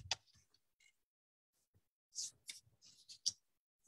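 Cardstock is trimmed for a handmade card with close, quiet snips and clicks that come in sparse bursts over near silence, with no one talking.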